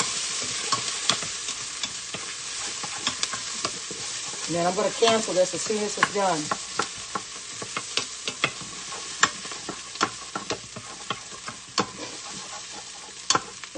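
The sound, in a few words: stirring and sizzling succotash in a quick cooker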